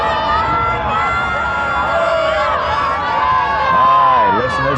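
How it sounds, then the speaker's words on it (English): Large crowd at a 1988 polo semifinal in Palermo, Buenos Aires, cheering and chanting loudly in a dense sustained roar of many voices. "listen to this crowd now"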